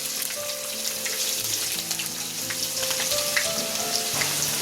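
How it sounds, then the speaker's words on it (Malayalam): Ginger frying in hot oil in a pan where meat has just been fried, a steady close sizzle with fine crackles and popping throughout, no voices. "പിന്നെ ഇതിന്റെ അകത്ത് തന്നെ ഇഞ്ചി വറുത്ത് കോരുക."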